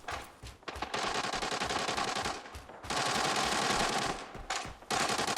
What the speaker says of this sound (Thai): มีเสียงปืนขึ้นข้างหน้านะครับ